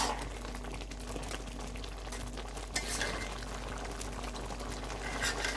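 Red lentils with amaranth greens, chili powder, green chilies and a whole onion boil in a pot on a village kitchen stove, giving a steady close bubbling hiss that runs unbroken throughout with no talking.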